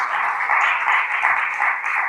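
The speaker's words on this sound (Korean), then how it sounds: "큰 박수로 감사의 말씀 올리겠습니다" An audience at a Korean founding general assembly breaks into steady applause, a dense even patter of clapping lasting a couple of seconds with no voices.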